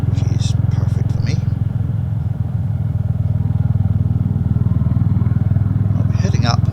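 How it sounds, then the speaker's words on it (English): A Royal Enfield Hunter motorcycle's exhaust rumbles steadily while riding along country lanes, a loud, continuous low throb close to the rider, with faint wind and whispery noise over it. "the exhaust from the motorcycle is actually louder than it used to be"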